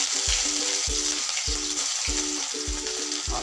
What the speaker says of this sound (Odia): ଅଦା ଟିକେ ହାଲକା ସେ ଭାଜି ନେବା।